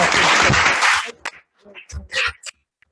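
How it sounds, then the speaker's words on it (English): Applause for Lord Nutbrown at a peace award ceremony, a dense burst of clapping lasting about a second before fading into scattered claps and voices. "Can we give a round of applause to Lord Nutbrown"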